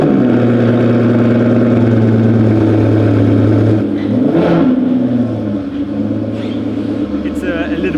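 An Aston Martin V12 Zagato Shooting Brake engine holds a loud, steady idle-to-rev drone, dipping and rising in pitch around the middle before settling back into a strong sustained hum.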